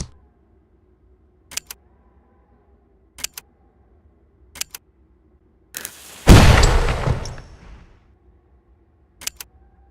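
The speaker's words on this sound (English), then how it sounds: "I heard an explosion!" Video game explosion in Dracula 4: The Shadow of the Dragon, a sudden loud roaring burst that trails off over a couple of seconds, set among sparse sharp clicks and taps.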